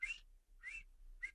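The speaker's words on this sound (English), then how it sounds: "Y'all ain't want me to whistle?" A man whistling three short tones in a row, each a brief bright note with small pauses between, quiet and close with no talk over it.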